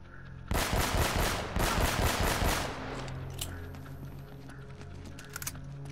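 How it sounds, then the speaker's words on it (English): Automatic gunfire in the Uncharted video game rattles in a dense, loud burst for about two seconds, then a quieter stretch with a few sharp scattered shots and clicks over a low game hum. "I'm gonna shoot these lights up"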